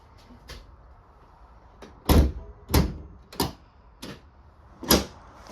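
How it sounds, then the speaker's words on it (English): Several hollow mechanical clunks and clicks at uneven intervals, close by, as a BMW X5 hood latch is pulled and released, with no talking. "you're going to open your hood latch"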